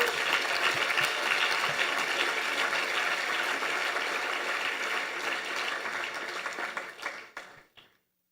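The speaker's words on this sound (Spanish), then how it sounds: "Dele un aplauso al Señor ahora." A church congregation applauds in a dense, steady wash of clapping that holds evenly, then thins and dies away at the end.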